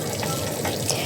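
Clean water runs into a gallon refill jug at a supermarket in Japan, a short steady gushing splash close by.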